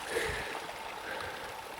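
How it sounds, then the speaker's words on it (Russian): A small stream flows through Siberian taiga forest, a soft continuous gurgle and trickle of water heard close and low, steady with no voices. "Течет ручей, бежит ручей."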